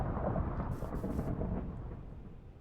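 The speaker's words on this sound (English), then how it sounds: "Why is it thundering here?" Thunder in Minecraft with the FTB Unleashed modpack, a deep low rumble rolling steadily and fading slowly, faint and distant-sounding, with no rain and no talking.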